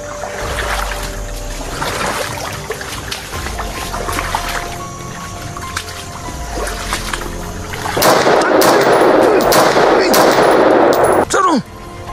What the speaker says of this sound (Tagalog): Mukhang malakas yun na baril ba?